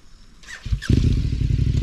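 Motorcycle engine running under load as the bike leans over on the tyre edge during slow standing circles, a low steady rumble rising abruptly after a brief quieter lull, with faint clatter earlier on.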